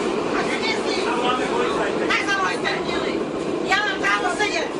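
Prague metro train rolling through the underground, a steady loud rumble and rattle filling the whole clip with people talking over it.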